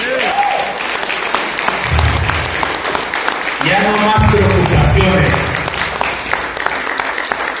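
A church congregation applauds throughout, broad and sustained, while a preacher speaks briefly over the clapping and a low rumble swells in the middle.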